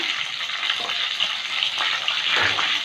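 Diced onion cubes frying in oil in a pan for chili soya, a steady broadband sizzle that holds throughout at close range, with no talking.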